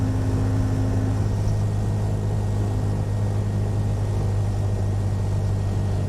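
A steady drone of a simulated light aircraft engine in the Prepar3d flight simulator during a throttled-back approach with flaps, constant and unbroken throughout, with no talk.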